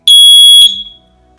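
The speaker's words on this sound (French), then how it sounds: "quand on appuie dessus, ça met comme si on avait de la fumée qui est détectée" A Tuya Zigbee smoke detector sounds after its test button is pressed: one loud, piercing, high electronic beep lasting about half a second, then a short fading tail into quiet.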